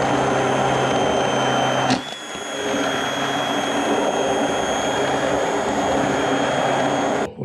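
An immersion blender purees red lentil soup with a loud, steady motorized whine and hum that briefly dips as the blade shifts, then resumes and runs continuously until cutting off at the end.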